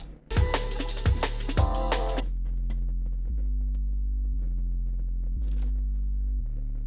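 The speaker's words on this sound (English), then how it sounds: "So it's just a sine wave and a square wave." A deep synth bass drones in sustained, stepping notes, a pure sine tone layered with a buzzier square wave, after a brief burst of bright clattering hits.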